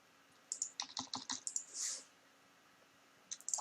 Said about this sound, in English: I'll use the arrow keys to adjust the positioning in a precise manner.